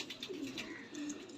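Soft, low cooing from a wounded flying pigeon close by, a couple of gentle throaty coos in a quiet setting.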